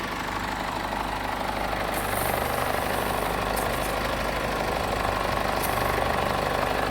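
An Isuzu D-Max engine idles with its AC compressor engaged, a steady close mechanical drone with a fine rattling texture and a few brief high whines, no talk.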